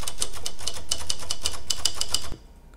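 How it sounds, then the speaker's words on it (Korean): A typewriter sound effect rattles off rapid, close, crisp key clacks in a steady run, then stops abruptly, leaving near silence. "타자기 소리를 제가 한번 가져와 볼게요"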